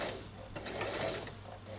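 A sewing machine stitches along the neckline of a child's dress, running steadily and close up with a continuous mechanical whir for a couple of seconds.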